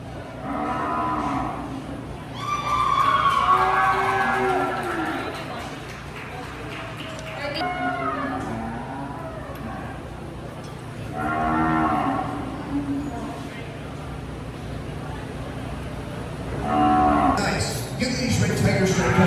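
Cows moo repeatedly at a cattle show at Vero Beach, with several loud, drawn-out calls rising above a steady crowd murmur and announcer-style talk.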